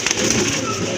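Domestic pigeons, a male and a female, give a brief, muffled coo lasting about a second within steady background noise.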